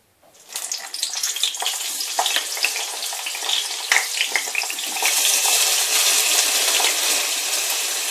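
Aubergines hitting a little hot oil in a pan for an Indian aubergine dish in tamarind sauce, giving a steady close crackling sizzle that swells and grows denser partway through, with no talk.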